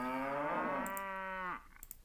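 A cow in the video game Jagged Alliance 2 gives a single loud, drawn-out moo that lasts about a second and a half and falls in pitch at the end, followed by faint clicks.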